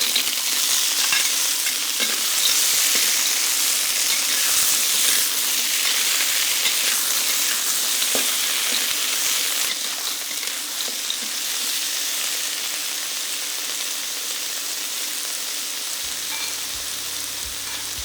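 Clams stir-frying in a hot pan with ginger, garlic, chili and the white parts of spring onion, a loud, steady, close sizzle with scraping stirs, no talk.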